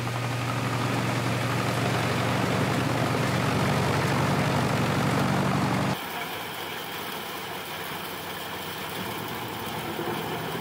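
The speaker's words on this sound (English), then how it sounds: "It is powered by a robust 768 HP Volvo engine, ensuring unparalleled power and efficiency." A Bandit Beast 3680 wood shredder with a 768 HP Volvo engine gives a continuous, steady, distant engine roar that drops to a lower, quieter drone about halfway through, with no voices.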